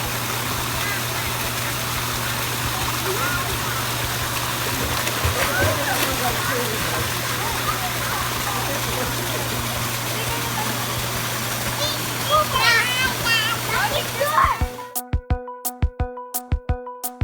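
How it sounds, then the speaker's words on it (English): A river at Vonwelt Nature Farm in summer, with steady broadband rushing and splashing water throughout, children's voices mixed in, before a sharp cut to intermittent clicks near the end. "over there is the river, and we have water activities"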